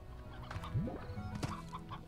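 A chicken clucks a few times in the Slime Rancher video game, short throaty calls over a faint game ambience with no talk.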